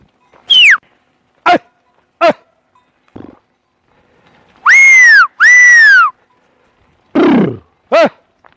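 Dogs guarding a sheep farm near Ozieri, Sardinia, bark loudly in separate bursts: short sharp barks, then two long drawn-out howling barks in quick succession and a final pair, with quiet pauses between and no talking.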